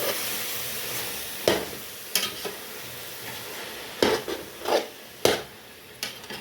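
A spoon stirs a thick carrot halwa mixture with ground cardamom in a pan, producing a handful of separate scraping strokes at uneven intervals over a soft sizzling background, close by and without talk.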